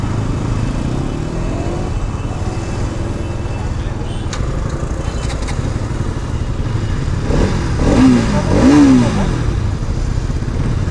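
An RS 200 motorcycle engine idles with a rough, low exhaust note, then revs briefly twice near the end, close by, while someone talks over it.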